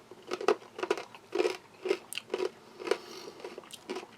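Roasted, salted corn nuggets from a kosher U.S. Army MRE being bitten and chewed up close, a run of about eight sharp, dry crunches spaced roughly half a second apart, with no talking.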